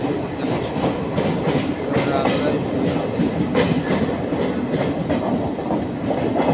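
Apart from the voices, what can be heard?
train running through a tunnel in North East India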